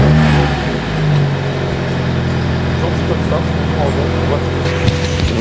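A Mini John Cooper Works engine cold-starts and settles into a loud, steady high idle, a brief rev near the start, close by with some background noise.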